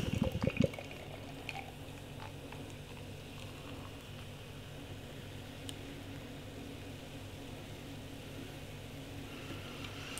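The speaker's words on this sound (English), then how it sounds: "as I was pouring the beer then" Canned Black Sheep Pathmaker Pale Ale is poured into a glass, giving a quiet, steady liquid trickle and fizz with a few small knocks at the start, recorded close in a calm indoor room.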